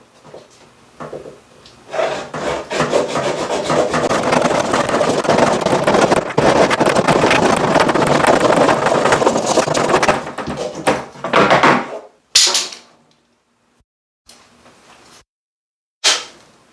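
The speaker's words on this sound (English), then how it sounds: "the only real tool I need is my Swiss Army knife" A Swiss Army knife saw cuts plastic pipe for a DIY pulk sled with loud, close rasping strokes for about ten seconds, followed by a few brief separate scrapes and pauses of silence.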